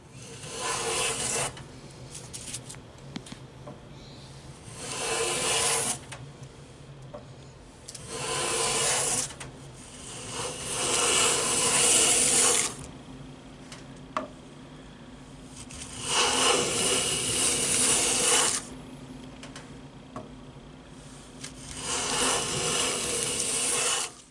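A restored Stanley Sweetheart No.6 hand plane shaves a piece of wood clamped in a vise, producing five or six long, loud rasping strokes separated by short pauses.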